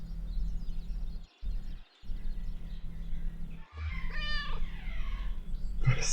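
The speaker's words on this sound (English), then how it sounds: "Skeptical meow. Me too, cat." A cat meows in the video game Kentucky Route Zero, a single drawn-out cry over a humming ambient background with other soft game sounds nearby.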